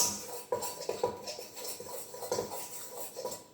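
Olive cake batter being mixed in a bowl, with a utensil tapping and scraping against the bowl in a quick irregular rhythm, close by and fairly quiet.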